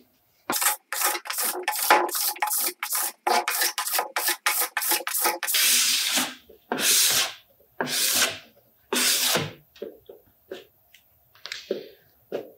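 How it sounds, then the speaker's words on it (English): A plastic scraper drawn repeatedly along a waxed snowboard from nose to tail, giving a series of short, close rasping strokes, quickening then spacing out into longer scrapes and a few light ones. "Scrape the remaining wax of your snowboard until a very thin film of wax is remaining. And make sure to scrape from nose to tail."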